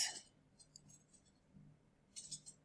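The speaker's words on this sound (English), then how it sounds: "And then the breaking glass." A breaking-glass sound effect: a quick bright crash opens the clip, followed by faint tinkling of shards and a second small burst of glassy clatter near the end. It is soft overall, with no voices.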